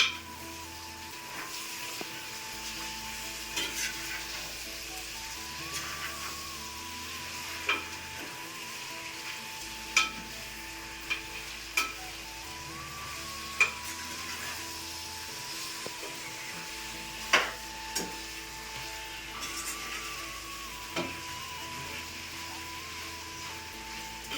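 Marinated country chicken fries in a pan with a steady, soft sizzle, broken by occasional sharp scraping clicks as it is stirred; no voices.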